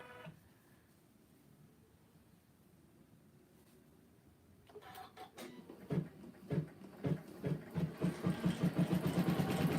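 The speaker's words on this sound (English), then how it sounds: "So I'm going to sew that one and watch, and I'll stop the machine when it's time to sew the other one." A Janome Continental 17 sewing machine stitches on a giant 12x19 hoop, starting after a quiet pause and building into a rapid, rhythmic mechanical chatter that grows louder and steadier toward the end.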